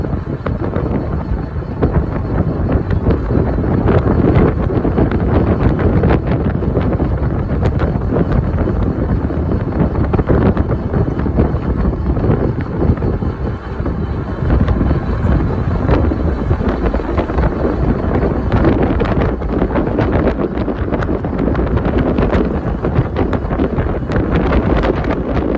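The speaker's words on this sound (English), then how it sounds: "Into a headwind here." A strong headwind roars steadily across the microphone during a long e-bike ride, a loud, unbroken rumbling buffet that never lets up.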